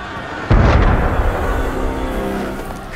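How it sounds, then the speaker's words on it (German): A single heavy cannon shot in the video game Assassin's Creed Unity booms out loud and close, then rolls into a long rumbling tail that fades slowly. "Kanonenschüsse. Manchmal klingt das Schicksal wie ein Kanonenschuss."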